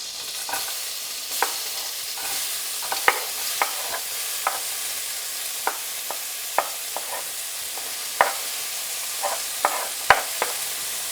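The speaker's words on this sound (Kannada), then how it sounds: "ಸೊ ಇವಾಗ ನಾನು ಬರೀ ಆನಿಯನ್ ಭಾಗ ಮಾತ್ರ ಬೆಣ್ಣೆ ಜೊತೆ ಫ್ರೈ ಮಾಡ್ಕೊತೀನಿ." Onions frying in butter in a pan while pav bhaji is cooked, a steady hiss broken by many sharp spatula scrapes and taps in an uneven rhythm, close by, with no talk.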